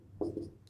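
A brief close scratch of numbers being written on a classroom board during a math lesson on decimals and fractions, a single short stroke that lasts under half a second.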